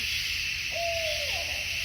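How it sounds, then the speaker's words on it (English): A single drawn-out owl hoot in a Midwest forest with a slight falling tail, heard alone over a steady high-pitched insect drone. "is an owl call."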